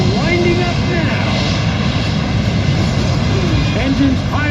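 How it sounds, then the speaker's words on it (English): Loud, steady roar of a C-5M Super Galaxy's General Electric F138 jet engines spooling up at an air show, a dense broadband rumble with rising whine tones, heard close under a voice speaking throughout. "It includes fitting new General Electric F-138s, which are winding up now."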